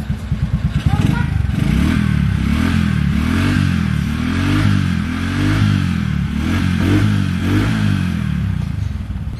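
A Honda Supra motorcycle, its engine smoking, idles and revs steadily with a rough, throbbing low drone and some clatter throughout, close by, with people talking over it.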